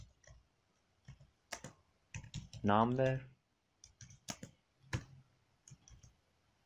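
Clicky computer keyboard typing as code is entered in MATLAB R2018a comes in short bursts of close keystrokes, mixed with someone speaking quietly.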